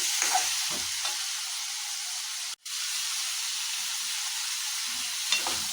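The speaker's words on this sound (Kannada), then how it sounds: "ಟೊಮೊಟೊನ ಇದಕ್ಕೆ ಹಾಕೋಣ ಫ್ರೈ ಮಾಡ್ಕೋಬೇಕು ಟೊಮೊಟೊ ಎಲ್ಲ ಸಾಫ್ಟ್ ಆಗಬೇಕು" Chopped tomatoes fry in a pan for egg masala, giving a constant close sizzle with light stirring scrapes and a brief dropout partway through; nobody speaks.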